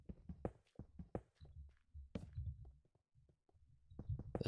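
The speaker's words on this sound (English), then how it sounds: "I'm hearing footsteps." Footsteps in the Minecraft video game, Infdev version: a run of soft, muffled thuds in an uneven walking rhythm, fairly quiet and heard without talking.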